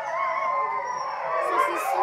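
Pack of wolves howling together at night in a zoo, several overlapping drawn-out wavering voices forming a continuous chorus, fairly loud and close, with higher yips rising toward the end.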